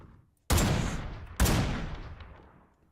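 Two loud, sharp gunshot bursts about a second apart, each with a long rolling echo that fades out, like combat fire in a battle royale game.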